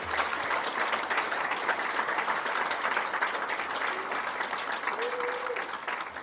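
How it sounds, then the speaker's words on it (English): A crowd applauds warmly at the 2023 Tasmania Australian of the Year Awards ceremony, with dense, sustained clapping that fills the room at an even, strong level from start to finish. "Let's give them a round of applause"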